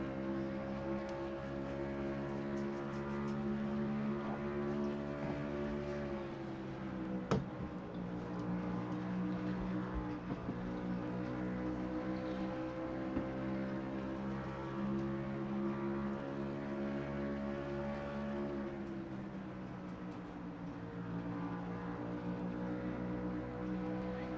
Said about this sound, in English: gotta love that V8 sound